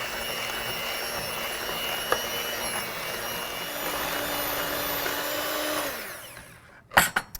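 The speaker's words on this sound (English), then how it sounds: "I'm going to give this all a quick mix." A batter made with skim milk is quickly mixed by machine: a steady, close whirring whine runs for several seconds, then winds down and gives way to a few sharp clanks.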